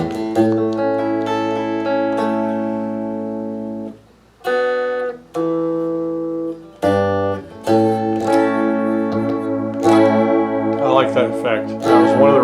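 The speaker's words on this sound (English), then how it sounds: "this crazy wobbly echo effect" Danelectro electric guitar played through a crazy wobbly echo effect, chords ringing with warbling repeats, pauses between phrases, loud and close.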